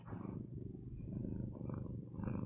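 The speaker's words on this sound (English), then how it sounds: "Can you hear him purring?" A pet cat purrs close by in a continuous low, rumbling drone that pulses gently with each breath, heard alone without any talking.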